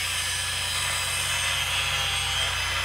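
A plasma cutter slices through steel pipe to make brackets for a custom backhoe, a loud, steady, unbroken hiss and roar that holds for the whole stretch with no talk.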